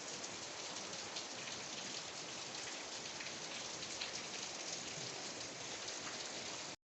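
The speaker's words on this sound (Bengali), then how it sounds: "দেখো বৃষ্টি হচ্ছে" Steady, dense rain hissing on surfaces, constant and even throughout, then cutting off abruptly at the end.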